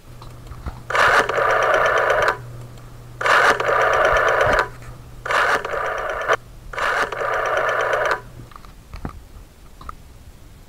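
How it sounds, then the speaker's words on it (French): A telephone rings back while a call is placed, sounding four evenly spaced buzzing bursts of about a second each under a faint steady hum, followed by near quiet. "il fallait que j'appelle René"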